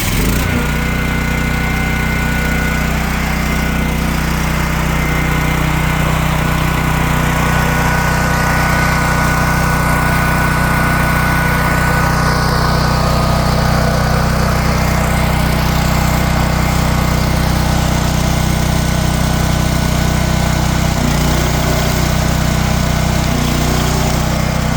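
A Generac 24 kW standby generator engine runs steadily during a weekly exercise run, a loud, constant droning hum with a strong low rumble and no pauses from start to end.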